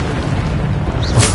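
The Bombarda explosion spell in the video game Hogwarts Legacy gives a loud, dense boom that sustains as a rough rumble, with a sharper burst near the end.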